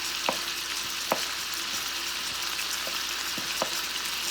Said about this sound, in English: And you want that tomato paste to cook down.